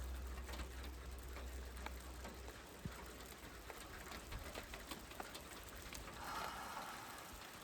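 Light rain falls outdoors in a soft, steady patter of scattered drops, faint and fairly distant, while a pigeon or dove coos quietly in the background.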